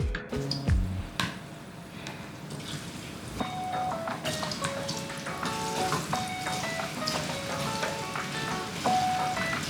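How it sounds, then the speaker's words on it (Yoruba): Plantain slices frying in hot oil in a pan for a plantain and egg frittata, a steady close crackling sizzle that runs throughout, with soft kitchen knocks and a faint background melody. "òróró ti gbóná, mo ti fẹ́ dín ọ̀gẹ̀dẹ̀"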